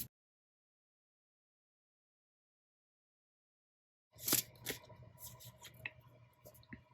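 After long silence, tarot cards are shuffled close by, a quick run of crisp riffling and flicking snaps, soft and irregular.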